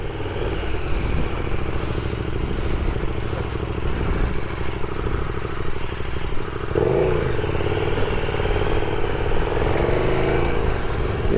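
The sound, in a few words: 2019 KTM Super Duke R motorcycle riding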